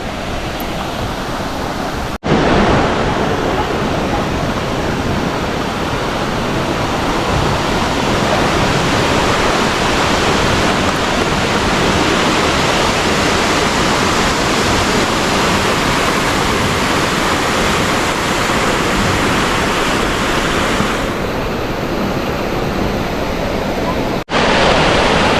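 A waterfall roars loudly and continuously near a family bathing spot by a grandfather's house, a dense rushing wash of water that fills the whole stretch with little variation.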